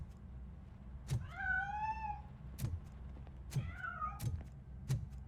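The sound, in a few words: cat meowing, from video game RoboCop: Rogue City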